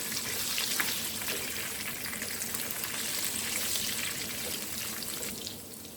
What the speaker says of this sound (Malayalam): ചെമ്മീനെല്ലാം ഇതേപോലെ മൊരിച്ചെടുക്കാം.